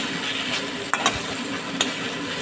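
Slit green chilies being stirred in a frying pan while making tomato masoor dal, a constant sizzle with a couple of sharp scraping clacks from the utensil against the pan.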